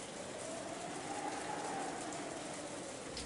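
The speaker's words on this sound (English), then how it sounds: "Just like the previous night, the rain was falling in earnest." Steady rain effect from the Umineko visual novel, an even continuous hiss of heavy downpour falling in earnest, holding at one level throughout with no voices.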